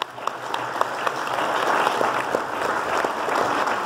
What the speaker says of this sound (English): Would you please give Todd a big round of applause?